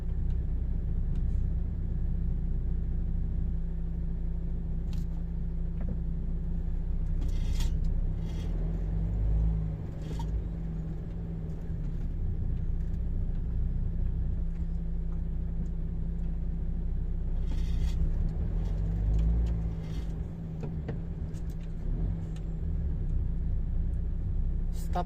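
Cars on a snowy, slippery road on a snowy morning in Germany, a continuous low engine and tyre rumble with a couple of louder vehicle swells passing close by.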